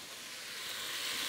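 Beef cubes sizzling in hot grapeseed oil over high heat for a beef and barley soup: a steady, bright hiss that swells slightly as it goes, with no voices.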